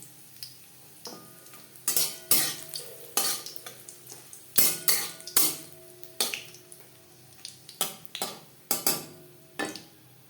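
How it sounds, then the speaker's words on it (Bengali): Dried chillies crackle in refined oil for a dal tempering while a metal spoon strikes and scrapes the pan in repeated sharp clinks over a faint sizzle. "দিয়ে দেবো 3-4টে শুকনো লঙ্কা, যেটা আমি টুকরো করে নিয়েছি।"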